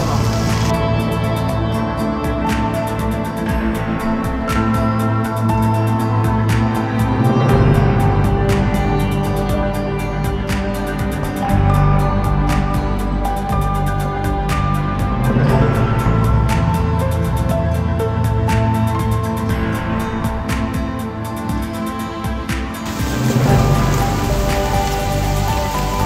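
Thoseghar waterfall near Mahabaleshwar in Satara, Maharashtra, in rainy weather: a loud, unbroken rushing roar with dense pattering spray throughout, with faint tonal music underneath.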